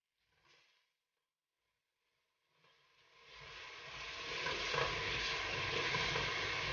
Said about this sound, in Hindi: अब हम इसमें दही डाल देंगे।